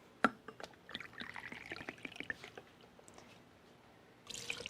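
Vodka poured into a jigger or shaker for a pomegranate cosmopolitan, a quiet liquid trickle with a few small clinks and taps, followed by a brighter splash near the end.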